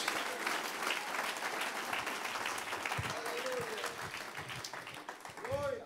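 Loud, sustained applause from a church congregation during an evangelistic service, with a voice speaking over the clapping toward the end as it tapers slightly.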